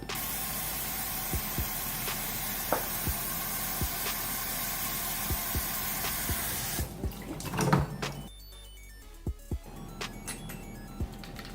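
Tap water streams steadily into a Waterbrick emergency water storage container, a continuous loud hiss and splash that shifts in tone and then drops to quieter trickling and dripping near the end.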